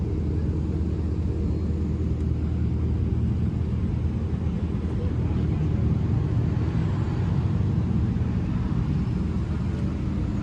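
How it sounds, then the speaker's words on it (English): A Ferrari engine rumbles steadily at a late-night car meet, a continuous low, throaty drone that holds at an even level throughout with no distinct revs or breaks. "Hear that Ferrari, fool?"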